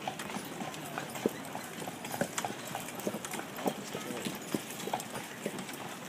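Pony hooves clip-clop steadily on pavement while pulling a carriage outdoors, a regular rhythm of sharp, moderately loud strikes over low background noise.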